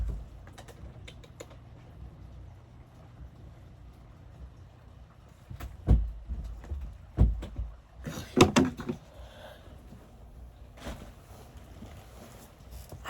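A house door is handled and opened to let a cat back in, giving a few loud thumps and rattles in the middle, with soft tapping and clicking before and after.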